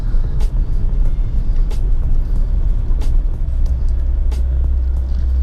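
A Honda Civic with a swapped-in manual gearbox idling while it warms up, a loud, steady low engine rumble heard from inside the car, broken by a few faint ticks and clicks.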